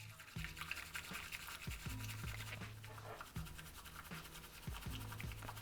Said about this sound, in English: Just keep on whisking.